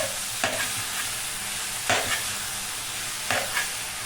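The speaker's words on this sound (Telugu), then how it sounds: "చక్కగా సిమ్ములో పెట్టి వేయించండి" Chopped banana flower fries on a low flame, a soft continuous sizzle broken by three evenly spaced scraping strokes of a spoon stirring the pan, with nobody speaking.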